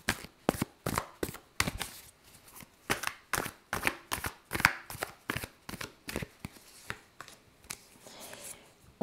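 Tarot cards are shuffled and laid out one by one, a steady run of crisp close slaps and riffles alone with no talking.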